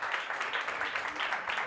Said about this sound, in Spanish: Aplauso para Juan Antonio